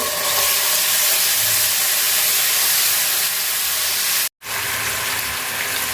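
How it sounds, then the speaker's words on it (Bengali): Garlic paste fries with browned onions in a pan, producing a loud, continuous hissing sizzle that cuts out abruptly for a split second near the end before resuming, with no talking. "রসুন বাটা হালকা একটু ভাজা"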